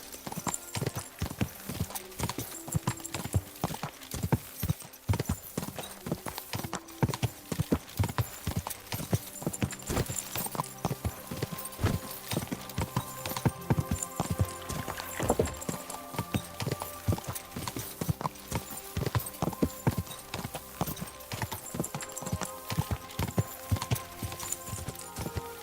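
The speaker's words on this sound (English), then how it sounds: "Someone's been pampering this horse." Horse hooves clip-clop steadily at a gallop in the video game Kingdom Come Deliverance 2, with a brief whinny, over continuous game ambience and music; close and prominent throughout.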